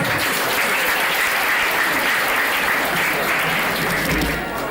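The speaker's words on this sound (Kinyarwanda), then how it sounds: "ariko mwongera amashyi Yesu." At a religious wedding ceremony, the congregation keeps up steady, dense applause for Jesus, a broad wash of many hands clapping close and loud, easing off slightly at the close.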